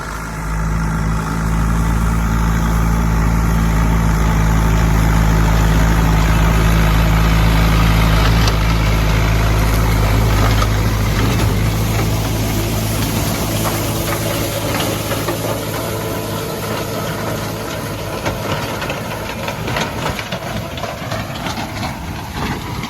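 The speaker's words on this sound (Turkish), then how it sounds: "motorun sesi güzel çıkıyordur" A John Deere 5095M tractor's loud, low diesel engine rumbles and knocks steadily while hoeing a corn field, with wind noise building as it continues running close by.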